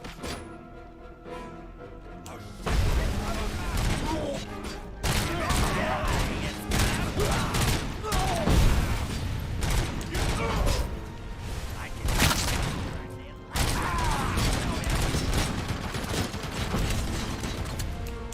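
Heavy-caliber gunfire in the video game Robocop Rogue City, loud sustained bursts of rapid shots and mechanical clatter in long dense stretches, with brief breaks and voices talking over it.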